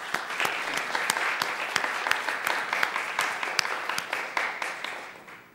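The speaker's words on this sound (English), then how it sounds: "Please join me in giving them a round of applause." A conference audience gives the organizers a warm round of applause, loud, continuous clapping with sharp individual claps standing out, tapering slightly toward the end.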